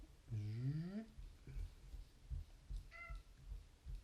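A single rising, drawn-out cat meow sounds nearby, with a fainter, shorter mew a couple of seconds later over quiet room noise and soft thumps.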